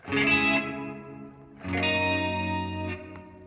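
Two strummed electric guitar chords ring out with heavy reverb from Positive Grid's BIAS FX, each swelling and trailing off in a long, washy tail.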